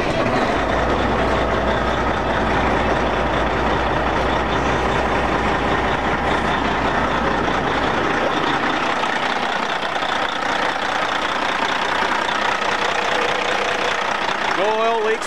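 A 2007 Kenworth T600 truck engine starts and settles into a steady, loud diesel idle with a deep low rumble, which shifts and thins out about halfway through.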